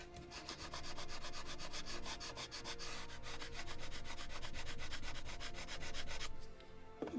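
Sandpaper rubbed briskly over a wooden model of the 1776 gunboat Philadelphia to take off drops of glue, a close, rhythmic scratching of quick regular strokes that runs steadily for several seconds before stopping.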